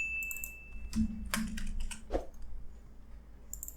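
A few scattered clicks of typing on a computer keyboard while entering React Native code, brief close taps separated by pauses in an otherwise quiet room.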